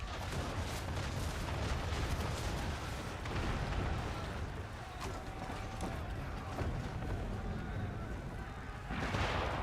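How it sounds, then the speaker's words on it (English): Mortar fire in a video game: loud, continuous rumbling booms and blasts overlap into a dense barrage that carries through the whole stretch. "Mortars!"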